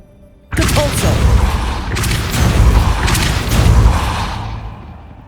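A Depulso force spell cast in Hogwarts Legacy at the High Keep, heard as a sudden loud whooshing burst that sets off several rumbling booms and thuds in a row, with combat sounds continuing until the end.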